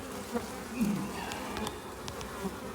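Honeybees humming around a hive entrance as they carry in pollen while ivy blooms, a continuous close buzz with individual bees passing and swelling briefly.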